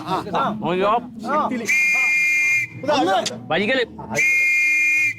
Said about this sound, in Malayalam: എല്ലാവരും രണ്ട് ലോങ് വിസിൽ ഒരു ഷോർട്ട് വിസിൽ കേട്ടോ